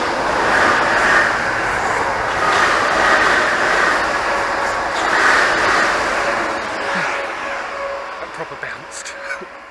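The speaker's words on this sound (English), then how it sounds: "Oh, another train, here we go." A train rumbles past overhead on a railway above a wartime air raid shelter in Gravesend, a loud sustained roar that swells and then fades away over several seconds.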